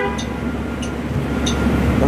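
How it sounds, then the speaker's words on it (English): An exo commuter train on the Le Richelain line sounds its horn at departure: a few short honks over a constant low rumble from the train, heard from on board. "The honk signals that we are departing."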